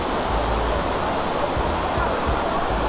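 Amboli waterfall in the rain, a famous cascade drawing visitors, heard as a steady, loud wash of falling water with low rumbling churn, continuous and close, with no clear talk.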